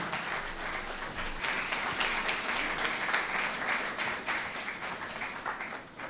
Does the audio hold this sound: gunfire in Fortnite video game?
no